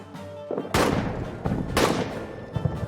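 WWI rifles and heavier weapons fire in a trench battle in All Quiet in the Trenches, with two loud booming shots echoing over a dense crackle of distant gunfire.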